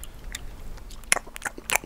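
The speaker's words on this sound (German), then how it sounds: "Da schmatzt es schön vor sich hin." A granola bar is chewed in the survival video game The Long Dark, with a series of crisp crunchy bites and chewing clicks that grow louder toward the end over quiet background, no speech.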